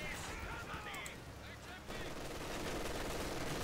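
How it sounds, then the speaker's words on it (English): Bursts of machine gun fire and other gunfire in a Company of Heroes 2 close quarters battle, loud and dense, with a voice talking over the shooting. "Oh, he's got a machine gun."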